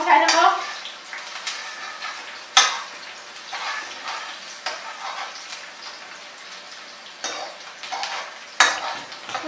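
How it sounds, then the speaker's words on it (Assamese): Onions frying in a pan while cooking Maggi noodles, with steady sizzling and repeated scraping stir strokes from a utensil, close and moderately loud, a few sharper clinks standing out. "এতিয়া আমি এইখিনি অলপ লৰাই থাকিম"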